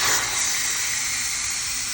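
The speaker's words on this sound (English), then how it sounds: "I just put a towel over it to catch the steam so it doesn't hit my cabinet." Steam hisses steadily and loudly from a roaster pan cooking four whole frozen chickens, a continuous close broadband rush of vented vapor with no pauses.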